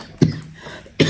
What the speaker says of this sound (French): j'ai toujours vraiment cette toux, j'en peux plus